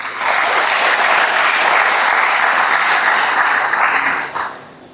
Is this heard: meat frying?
no